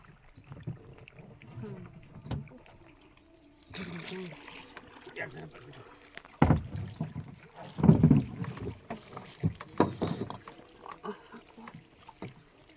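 A small wooden rowboat moves through a waterway beside the Marichjhapi mangrove forest, with soft lapping and sloshing water, creaks and bumps from the hull, and wind buffeting the microphone, close and moderately loud with occasional voices.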